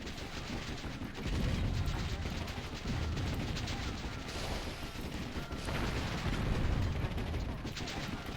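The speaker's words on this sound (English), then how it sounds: "This is a lot of my very first machine guns here." Early machine guns rattle in the real-time strategy game Warzone 2100, a dense, continuous stream of distant gunfire and blasts with voices talking over the battle.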